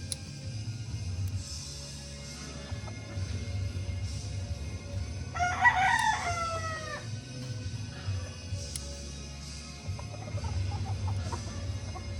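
A rooster crows once at middle distance, a clear rising and falling call over steady low farmyard hum and faint background chatter.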